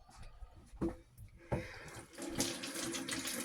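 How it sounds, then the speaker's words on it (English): Hands rinsed under a running kitchen tap while making blueberry muffins, a steady soft splashing stream with a few louder splashes as the hands move, fairly quiet and close. "Rinse my hands off while you do that."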